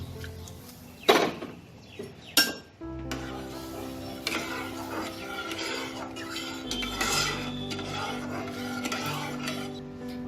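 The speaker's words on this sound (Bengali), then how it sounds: "এবার আমি এতে সেদ্ধ করে রাখা মুগ ডালটা দিয়ে দেবো।" Boiled mung dal with a little water goes into a pan on the stove: a few sharp clinks of a metal spoon against the pan, then soft stirring and scraping over a low cooking hiss, close and quiet.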